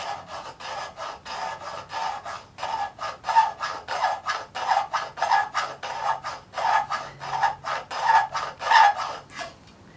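A knife shaving curls from a red pine branch makes repeated short, dry scraping strokes in an even rhythm, close up and fairly loud, about two strokes per second with no talking.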